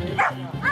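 A very young female Belgian Malinois barks at a decoy during sport dog training, two sharp close barks in quick succession, working on a leash.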